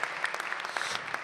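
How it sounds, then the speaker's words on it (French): An audience at a French talk with a round-the-world sailor applauds, a brief spell of steady, continuous clapping at moderate distance. "Vous pouvez l'applaudir."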